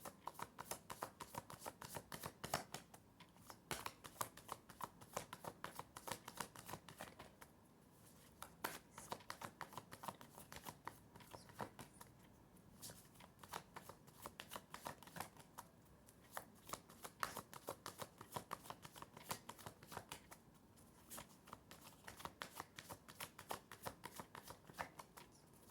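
Tarot cards shuffled continuously by hand, a dense run of quick papery riffles and slaps that keeps going with only brief pauses, close and soft.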